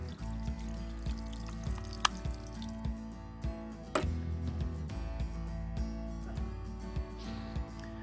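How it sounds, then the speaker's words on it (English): A beard trimmer rinsed under a running tap, with steady water pouring and splashing against it, punctuated by a few sharp knocks, close and moderately loud with no voices. "So to clean the trimmer, you simply rinse it under the tap."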